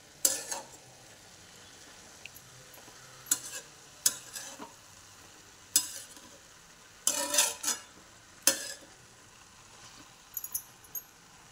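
Spring onion greens being stirred in a pan with salt, quiet sizzling beneath intermittent sharp scrapes of a spoon against the pan, coming in short separate bursts with pauses between.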